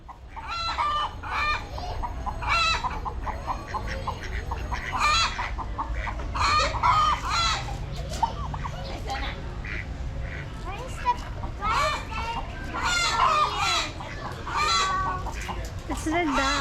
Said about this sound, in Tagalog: It's the duck.